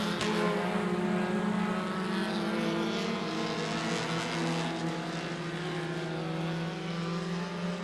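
Mini stock race cars on a super short track slide out of a corner, engines droning loudly and steadily with overlapping tones and a dense, continuous roar throughout.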